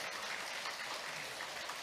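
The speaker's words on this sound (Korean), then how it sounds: "어떻게 맞으신 것 같으면 박수를 더 한번 주시죠." Applause from a congregation at a Won Buddhist service fills the whole moment as a dense, steady wash of clapping, fairly loud and continuous with no talk over it.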